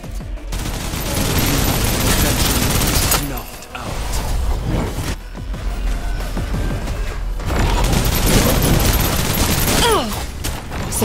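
Heavy sustained gunfire in the shooter Snowbreak: Containment Zone, with long loud bursts of rapid shots in two main stretches separated by a brief lull, mixed with mechanical clanks and a voice speaking over the action.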